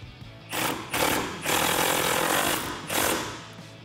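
Mechanical ratcheting on bolts securing aftermarket LED projector fog lights on a 2017-2019 Ford Super Duty, a dense rattling that runs in bursts, pausing briefly and resuming, close and fairly loud with no talk.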